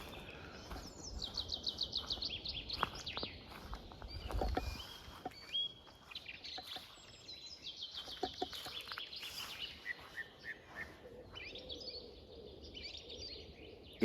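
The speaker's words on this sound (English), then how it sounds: "It's like a symphony of different birds." Many birds sing and chirp together on a farm on a bright morning, a dense, steady chorus of overlapping calls near and far, with a few clucking chicken sounds mixed in.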